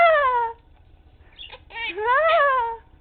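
Two meow-like calls, the first short and falling, the second longer and wavering after a pause, make up a cat imitation by a Quaker parrot, heard close and clear.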